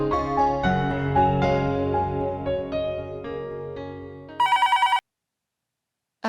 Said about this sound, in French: je vais appeler au bureau